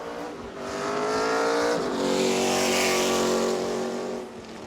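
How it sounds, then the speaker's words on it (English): An ARCA race car wearing an old-style Gen 6 NASCAR body laps New Smyrna's track, its engine rising to a loud, buzzing roar as it sweeps past, then fading slightly as it pulls away. "As we'll see the car take a couple of laps."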